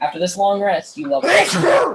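A sneeze bursts out loudly right after a person speaks during a tabletop Dungeons & Dragons session, a short noisy blast following the talking.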